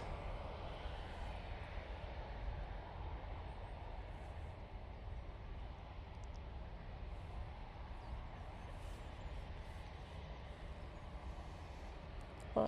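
A jet airliner on final approach to land at Manchester Airport, passing in front of the watchers, gives a steady, fairly faint engine roar that stays even throughout with no voices.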